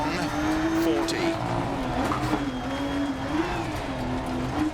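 A BMW M2 Competition in Dirt Rally 2.0 launches at full throttle with tires spinning up. The close, loud engine note climbs and wavers as it pulls hard through the gears.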